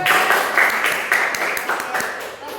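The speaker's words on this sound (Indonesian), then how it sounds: "Tepuk tangan dulu untuk Rizka." A short burst of clapping from a class or audience, loud and close, mixed with voices talking over it.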